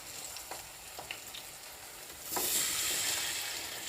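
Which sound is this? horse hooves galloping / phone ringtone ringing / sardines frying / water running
sardines frying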